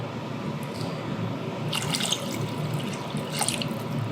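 Water pouring into a pot of beef bourguignon, a steady close splash and trickle with brighter bursts partway through, no voices.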